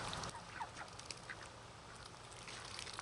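Farm ducks quacking in a few short, nasal calls scattered over a steady outdoor background, moderately close and without any talk.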